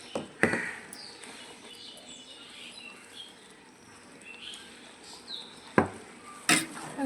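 Fried spices are stirred into chicken rezala in a pan. A few sharp metal clanks and scrapes of a spoon against the pan come through over a soft background hiss, spaced irregularly.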